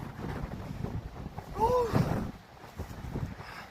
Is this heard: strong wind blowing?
yes